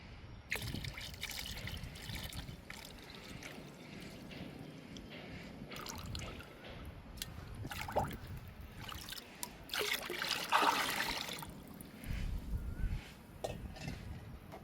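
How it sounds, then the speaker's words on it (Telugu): Sour buttermilk being stirred into nine litres of water in a ten-litre bucket, giving intermittent close sloshing, trickling and splashing sounds with a louder burst of churning near the middle. "ఈ పుల్లటి మజ్జిగని ఈ వాటర్లో డైల్యూట్ చేసుకుందాము"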